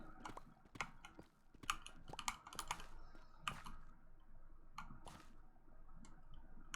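Irregular keystrokes on a computer keyboard, crisp clicks in uneven clusters with short pauses, close and fairly quiet, nobody talking.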